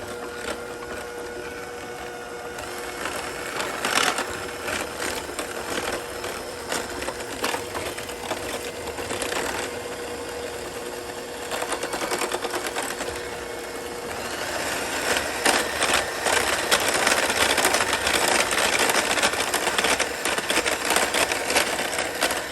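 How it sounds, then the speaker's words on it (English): An electric mixer whirs steadily through gluten-free Oreo waffle batter, a continuous buzzing drone with clattering and rising intensity toward the end, with no speech. "I think I'm gonna have to get my mixer out for this, because I don't think I can do this by hand."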